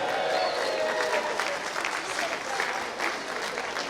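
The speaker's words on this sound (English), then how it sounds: "so give her a big cheer." A crowd claps and cheers at a county championship swimming gala, sustained applause ringing through an indoor pool hall, with voices mixed into the noise.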